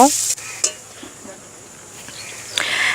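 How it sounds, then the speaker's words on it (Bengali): Chopped onions fry in mustard oil with bay leaf, dried chilli, cardamom, cinnamon and peppercorns, making a soft, steady sizzle with a few light utensil clinks. "পেঁয়াজটাকে আমি লাল লাল করে ভেজে নেব।"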